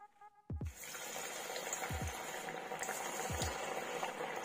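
Malabar spinach (poi leaf) pakoras frying in hot oil over a medium flame, a dense close bubbling sizzle that starts abruptly and continues, with a few low thuds as batter pieces drop in.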